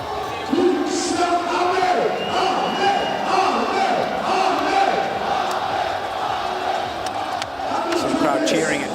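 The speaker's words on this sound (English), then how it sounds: "Crowd cheering and satisfied, very satisfied with the performance by Amir Khan" Boxing arena crowd roaring and cheering after an Amir Khan fight against Billy Dib, a dense sustained wall of shouts and whoops from many voices, loud and continuous throughout.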